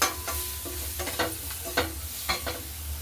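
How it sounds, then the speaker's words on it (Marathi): Turmeric being sautéed into a ground spice paste for Mumbai vada pav filling, with repeated short scraping stirs of a spoon against the pan over a low, steady sizzle, close and moderately loud. "हळद पण वाटणामध्ये परतून घेऊ."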